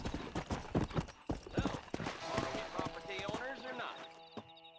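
Horse hooves clip-clop in the Red Dead Redemption video game, a quick, steady rhythm of close, distinct hoofbeats that carries on under voices in the second half.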